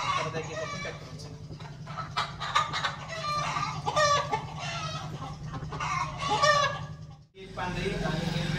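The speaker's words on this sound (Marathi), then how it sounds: "5 कोंबड्या आणि 5 कोंबड्या असे 10 पक्षी आहेत सगळे मिळून." Ten hens and roosters, white and yellow-black, cluck and squawk steadily while being packed into boxes, close and fairly loud, with a low steady hum underneath.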